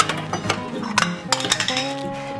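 A cup taken out in a home kitchen, heard as a quick series of close ceramic clinks and knocks against other dishes, sharp and bright with short ringing tones, no talk.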